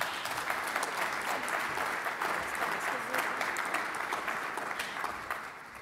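An audience at an annual conference forum applauds in a continuous, distant-sounding wash of clapping that fades slightly near the end.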